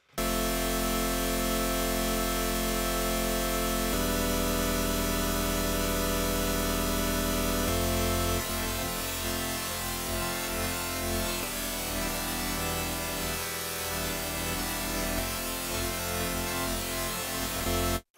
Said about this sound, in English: Let's take a listen to the pink noise really quick and see what that sounds like.